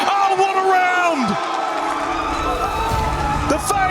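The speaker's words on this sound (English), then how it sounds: "The FaZe crowd are off their feet as they close out Consulate." Live esports crowd at a Rainbow Six Siege semifinal between FaZe Clan and Geekay Esports, roaring and whooping loudly and continuously as a round on Consulate closes out.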